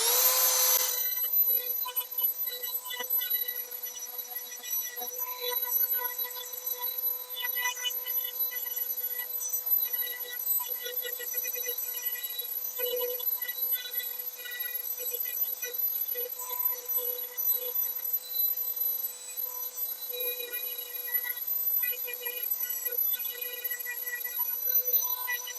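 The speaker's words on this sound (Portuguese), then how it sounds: "agora minha voz vai ficar um pouquinho prejudicada e vocês vão escutar o barulhinho da retífica aí" Rotary tool sanding a ceramic piece, a continuous high-pitched whine with a rasping grind that holds steady for the whole stretch, close and fairly loud, with no voices over it.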